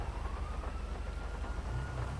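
In the game GTA 5 FiveM, a police siren wails faintly at a distance, its rising tone threading over a low, steady car engine rumble with no talking.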